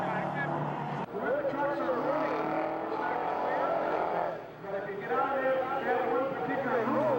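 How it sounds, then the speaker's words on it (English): Race trucks powering up the pit straight at Mosport during the 1987 Great American Truck Race, a loud, continuous engine roar with shifting pitch, under steady commentary. "But Murtaugh stays on line as they both power up the pit straight to complete another lap with Baker still just behind."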